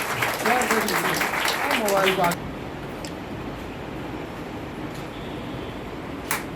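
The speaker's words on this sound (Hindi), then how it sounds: "ताली बजनी चाहिए आपके मैनेजर सारा जी।" Audience at a foundation seminar clapping under a loud voice for the first couple of seconds, then the applause continues alone as a steady, moderate patter.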